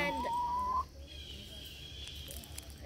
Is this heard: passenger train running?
no